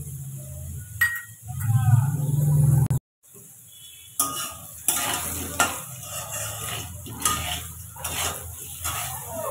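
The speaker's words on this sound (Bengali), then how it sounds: "আলুগুলো আমি লাল করে ভেজে নেব।" Potato pieces fry in hot oil with salt and turmeric for a shrimp curry, a sizzle under clattering stirs of a spatula in the pan, cut off briefly before the frying and scraping resume.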